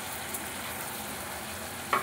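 A spice masala sizzles in a pan, a soft, even frying hiss close by with a small clink at the end.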